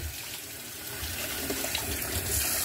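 Tap water runs steadily into a sink as something is rinsed while making an Oreo milkshake, a constant close splashing rush with no talking.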